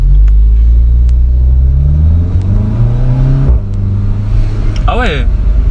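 Seat Cupra with 360 hp and a stage 1 tune, its engine rumbling loud and close with rising and falling revs, ending in a sharp high blip, while people talk over it.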